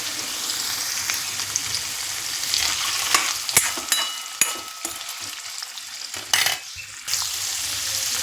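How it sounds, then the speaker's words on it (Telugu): Oil sizzles and crackles steadily as ginger pieces fry in a pan, with occasional scraping and clinks of a spoon stirring. "కొంచెం అల్లం ముక్కలు వేసి వేయించి తీసేసుకుందాం"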